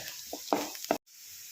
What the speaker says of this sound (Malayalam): സവാളയുടെ കൂടെ തന്നെ ഉഴുന്ന് കൂടി ഇട്ട് കൊടുക്കാം അതും കൂടെ ഒന്ന് ചെറുതായിട്ട് മൂത്ത് വരട്ടെ